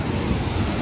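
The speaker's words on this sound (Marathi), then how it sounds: "तर मित्रांनो आता आलेलो आहे सोमेश्वर धबधब्यावर." Rushing water at Someshwar waterfall, a dense, loud, continuous roar heard close with some wind buffeting on the microphone, no talking.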